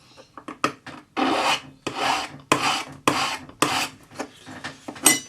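Rasping strokes of a metal claw setting being sanded on its back, a run of short irregular scrapes followed by longer steady rubbing passes, close and fairly loud with no voices.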